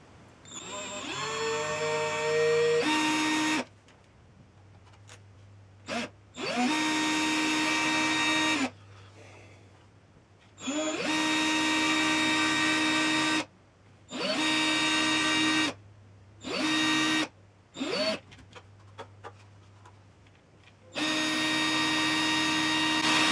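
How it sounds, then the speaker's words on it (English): A power drill whirs in repeated bursts of varying length, drilling through holes in leather, starting and stopping with short pauses between, close by and loud. "Now what I need to do is drill through the holes again to make sure they're fully aligned"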